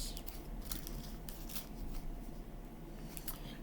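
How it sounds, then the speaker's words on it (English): Crinkly wrapper being peeled off a mint-flavoured praline candy, close and steady for a few seconds, with brief sharper crackles spaced through the quiet rustling. "we're gonna go ahead and unwrap"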